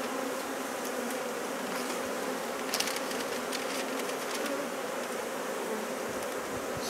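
Honeybees hum steadily at a hive during a colony union, a dense, continuous buzz with individual bees flying close past now and then, with no voices.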